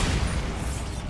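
A Bombarda spell explodes in Hogwarts Legacy with a dense, loud roar of low rumble and hiss that fills the whole second without letup.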